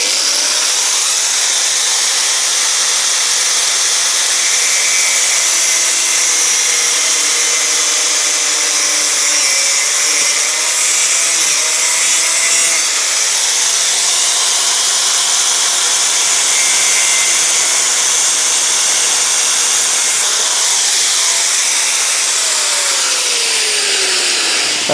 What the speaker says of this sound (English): I think I'm just going to have to zip off that bar, and I have got my angle grinder with me.